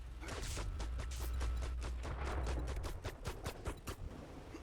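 Automatic turret traps in 7 Days to Die fire a rapid burst of sharp shots that blurs into a steady roar, then thins into separate cracks and thuds, with nobody speaking.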